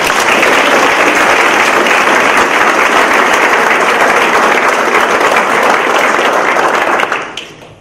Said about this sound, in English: So let's please give them a round of applause.